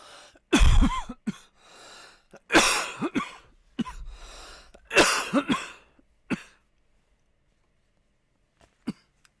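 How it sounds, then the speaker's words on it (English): Several loud, harsh coughs in close succession from a person streaming, in bursts across the first six seconds, followed by quiet and a single faint cough near the end. "I got spit on my glasses like some weirdo who coughs"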